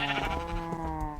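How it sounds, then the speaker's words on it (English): Sheep bleating in modded Minecraft, a couple of overlapping wavering bleats heard close and clear, with no talk over them. "let's go shear our sheep and bighorn sheep"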